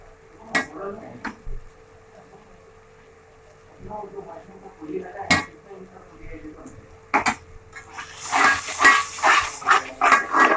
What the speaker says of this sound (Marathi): खोबरं कांदा वगैरे वाटण केलेलं ते व्यवस्थित तेलामध्ये परतून घ्यायचं